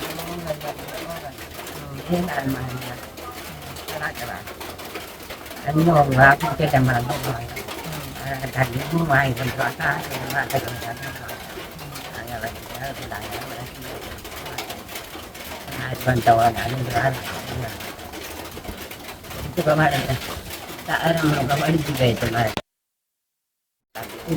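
Pigeons cooing in soft, repeated bursts over a steady, noisy background, with the calls rising and falling throughout and never very loud.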